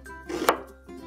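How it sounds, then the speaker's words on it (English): A knife chops through an onion on a cutting board in a home kitchen, a single crisp close knock with a soft slicing lead-in, heard alone without talk. "Next, let's cut the onion."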